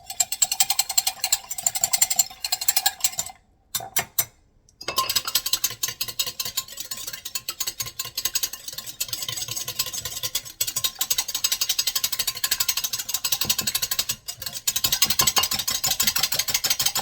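A whisk beats egg and milk together in a bowl for Hungarian crepe batter, making a rapid, continuous clatter. The clatter pauses briefly early on, then carries on steadily.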